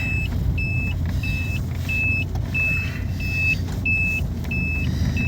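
A car drives along a road toward a market, its engine and tyre rumble steady and close throughout, with a regular series of short high beeps repeating about every half second over the drone.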